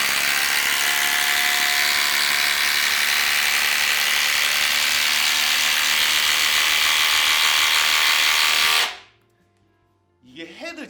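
An impact driver sinks 14mm-head screws in one long, loud, close buzzing run of rapid hammering that stops abruptly near the end, followed by silence and then a short burst of talk.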